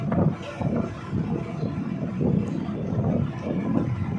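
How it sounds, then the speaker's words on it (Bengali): Boat engine rumbling steadily during a ferry crossing in the Andaman Islands, with a continuous low drone and wind buffeting the microphone throughout. "তো ক্যাপ্টেন এই যে চালাচ্ছে বোট"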